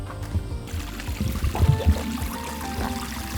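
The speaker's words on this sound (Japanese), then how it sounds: "川で水を汲んでいきましょうか" Water is scooped from a river into a bucket, with a few low sloshing gurgles and a splash near the middle over a soft flowing background. It is close and modest in level.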